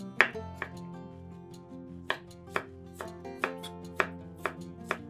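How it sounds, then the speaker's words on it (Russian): A knife chops ham into small cubes on a cutting board in a steady series of sharp knocks, close up, with soft background music underneath. "200 грамм ветчины нарезаем небольшими кубиками."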